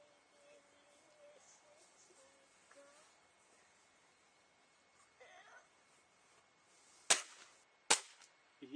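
Two sharp, loud gunshot cracks fired at soft clay ring out close together near the end, following a quiet stretch with faint speech and small noises; the rifle calibres involved are .17 HMR and a .177 pellet gun.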